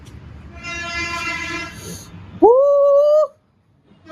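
A train rumbles and clatters, then a loud, sharp horn blast sounds once for under a second before cutting off to near silence.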